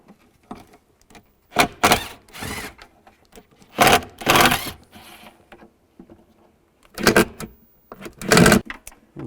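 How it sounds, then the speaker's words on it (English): A T20 socket backs out the screws holding a tail light circuit board on a 2002-2009 Chevrolet Trailblazer, making several short, close bursts of ratcheting and scraping separated by quiet pauses. "I'm going to use a T20 socket. Take this screw off here,"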